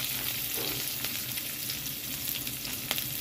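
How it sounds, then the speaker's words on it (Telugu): Onion, carrot and green chili fry in a pan for breakfast, a loud continuous close sizzle with occasional stirring scrapes and no talking. "పచ్చిమిర్చి, ఉల్లిగడ్డ, క్యారెట్ ఇవి ఫ్రై చేసుకుందాం"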